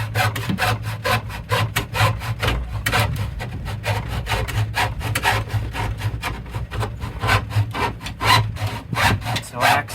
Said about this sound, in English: So a hacksaw makes pretty quick work of it.